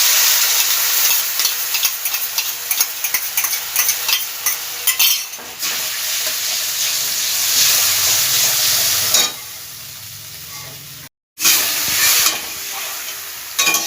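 Fried onions stirred together with a prepared sauce in a pan for a red cabbage dish, giving a steady loud sizzle with scraping stirs. The sizzle quiets and drops out briefly near the end before resuming.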